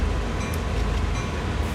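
Train running on the Oakville Subdivision in Train Sim World 6 during industry switching at Hamilton, a steady low rumble with rail and wagon noise that holds throughout, close and fairly loud, no talking.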